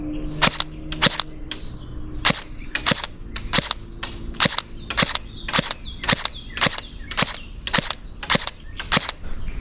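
Novritsch SSE18 airsoft electric gun firing 0.2 g BBs outdoors, about sixteen sharp, snappy shots in a steady, evenly spaced semi-auto rhythm, loud and close with no talking.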